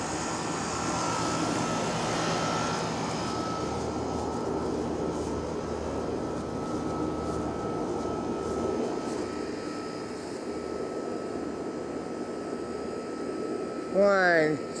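Four helicopters pass over Grays Harbor County, Washington, a steady distant rotor and engine drone holding through the whole stretch, with a brief louder burst near the end.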